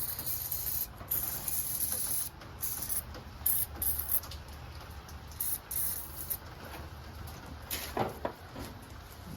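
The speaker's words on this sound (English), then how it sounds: "Now I'm going to spray some oil on the head of the bolt." Aerosol oil being sprayed onto the head of a bolt on a Craftsman PYT9000 lawn tractor, giving steady close hissing bursts of varying length over a low background rumble.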